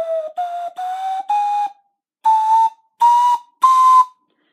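A cheap Peruvian ocarina, not well tuned, plays seven separate rising whistle-like notes in clear bursts with short gaps, close and fairly loud, and no one speaks.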